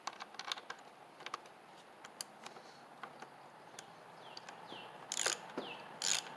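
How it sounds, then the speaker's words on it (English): A socket and ratchet force a damaged terminal on a UPLUS 250CCA AGM lawn and garden battery, giving quiet, close, irregular sharp clicks with brief pauses and a couple of louder bursts near the end. "Maybe I can force it with a socket and a ratchet here"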